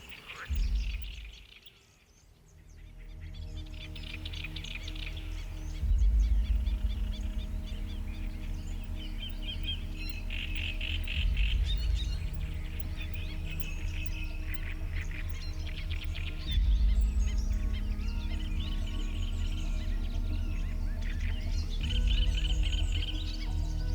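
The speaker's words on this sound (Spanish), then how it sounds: "Pelícanos, garzas, gaviotas, patos y aves rapaces forman parte del paisaje cotidiano." Coastal birds of the Gulf of Mexico, including pelicans, herons, gulls, ducks and raptors, call in a continuous chorus of chirps and cries over a low steady rumble with occasional louder thumps.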